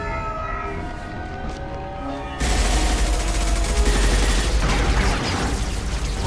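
Gunfire in the Mass Effect 2 video game, a dense, loud rattle of rapid shots that breaks in abruptly over a droning electronic tone and keeps pounding continuously.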